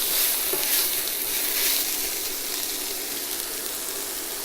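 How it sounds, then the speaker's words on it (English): Ginger and garlic frying in a pan, a loud, steady hiss and crackle of hot oil that holds evenly throughout without any voices. "Let that fry for about 3 minutes or so."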